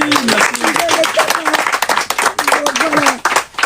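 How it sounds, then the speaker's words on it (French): A live audience claps for a new father at an event, with rhythmic clapping mixed under singing or chanting voices throughout. "est-ce qu'on peut applaudir pour son fils?"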